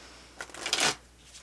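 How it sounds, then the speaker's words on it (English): Oracle cards riffled in a quick shuffle, a crisp papery burst of flicking lasting under a second, close and alone. "I feel like I should do an ASMR with these readings because of the way I shuffle"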